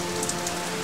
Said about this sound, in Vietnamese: ngoài kia trời mưa lạnh